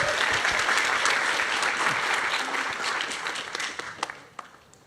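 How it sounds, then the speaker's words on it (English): Audience applause at a Sydney livestreamed event, a full dense burst of clapping that holds steady then tapers off into a few last scattered claps. "I'd love to give Mel a round of applause for putting this all together"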